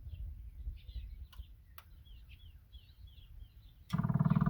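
A Cummins Onan QG 4000 RV generator being primed outdoors: birds chirp in the background, then a loud, steady electric buzz from the priming starts abruptly near the end and holds.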